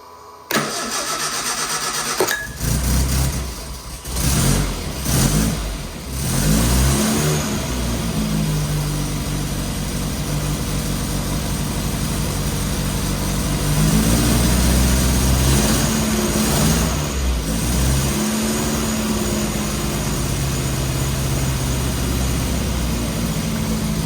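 A 948cc A-Series engine fitted with twin SU HS2 carburetors cranks and fires up on choke, then runs with loud, steady revving and shifting engine tone for over twenty seconds, close and continuous, with no talking.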